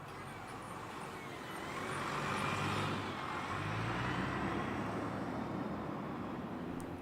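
A MAN Lowliner ALX 300 bus runs nearby at a transport festival, its engine giving a steady, fairly loud rumble that swells a little partway through and holds to the end.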